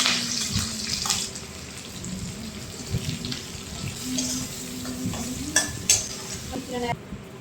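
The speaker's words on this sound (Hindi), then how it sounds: "प्याज और हरी मिर्ची को अच्छे से तेल में फ्राई कर लेती हूँ।" Onions and green chillies frying in oil, a close, steady sizzle broken by repeated stirring scrapes and clinks of a utensil against the pan, with no talking.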